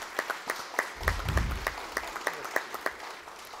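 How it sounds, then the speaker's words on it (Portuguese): Sparse, spaced claps from a small audience at a municipal event for the defense and protection of life, a loose rhythm of individual hand claps at moderate distance, with a low rumble of voices in the middle. "Eu quero uma salva de palmas para o João."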